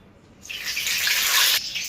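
Water splashes onto a perforated sev-making ladle set over a pan of hot oil for Ratlami sev, a close, steady rushing pour that lasts about a second before cutting off.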